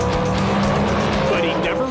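A 2,500 horsepower Pontiac GTO from Canada races the quarter mile at an annual street drag event in Orlando, Florida, giving a loud, sustained engine roar with tire noise, close and continuous, under a narrator's voice.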